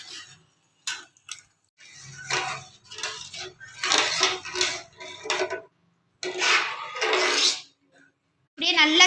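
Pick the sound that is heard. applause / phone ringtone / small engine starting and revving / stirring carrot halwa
stirring carrot halwa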